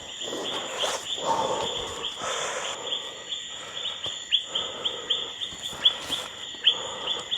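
Short bird calls ring out close by on a mountain at dusk, sharp repeated chirps in the second half over a hissing, insect-filled background with some rustling.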